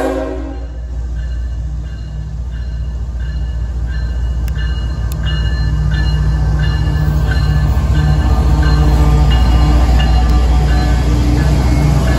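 A CSX mixed manifest freight train rolls past close by, with a heavy continuous rumble of wheels and cars building steadily in loudness, rhythmic clacking, and bright horn-like tones sounding over the passing cars.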